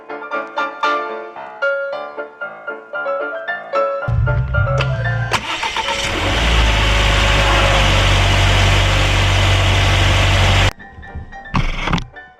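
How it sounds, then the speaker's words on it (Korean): A Volvo XC40 car engine starts after a string of chimes, cranks with a thunk and catches into a loud, steady idle for several seconds, then cuts off as more chimes follow. "이 마이너스 포트 누른 상태로 시동을 걸도록 하겠습니다."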